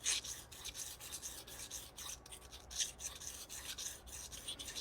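A knife blade rubbed in repeated strokes across a vitrified diamond stone during hand sharpening, giving a steady rasping scrape that rises and falls with each pass, close and fairly quiet, with no voices.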